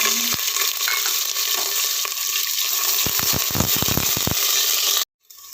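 Chopped onion hits cumin already frying in a pan, giving a steady hiss with a quick run of sharp crackles and stirring clatter near the end before the sound cuts off abruptly.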